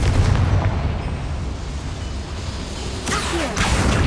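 A Confringo blasting spell goes off inside a goblin mine in Hogwarts Legacy, a heavy booming explosion with rumbling low-end debris, then a second sharp burst near the end.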